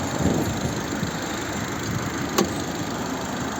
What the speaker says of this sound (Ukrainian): І як у нас працює цей знаменитий 140-сильний атмосферний двигун